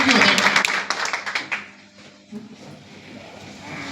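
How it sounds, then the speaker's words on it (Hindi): An audience at a company event claps in a loud burst of applause that fades after a second or so, leaving softer room noise and a few scattered claps. "खड़े होकर के जोरदार ताली बजा दें"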